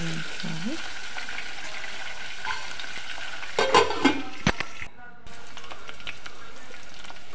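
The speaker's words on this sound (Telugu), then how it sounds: "ఉల్లిగడ్డలు బాగా వేయించుకోవాలి" Sliced onions fry in hot oil for a Telugu curry, a steady close sizzle with clinks and scraping of a stirring spoon against the pan, as a voice speaks briefly over it.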